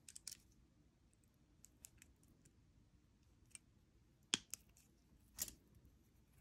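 Wire cutters snip excess jewelry wire while wrapping earrings: a few faint, sharp clicks scattered across a quiet background, with one or two crisper snips standing out near the end.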